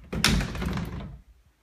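Closet double doors in a rental home swing shut with a single soft thunk, followed by a brief rattle and a couple of faint settling taps.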